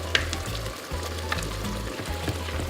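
Tomato simmers and sizzles in a pan for pork menudo, a close, steady bubbling fry with a few sharp crackles and a low hum underneath, no talking.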